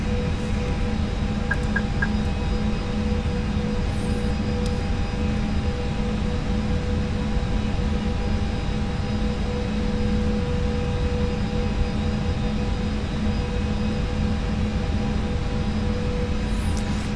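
Steady airliner engine drone in a VATSIM flight simulator cockpit, a constant low rumble with a faint hum, unchanging throughout and heard alone.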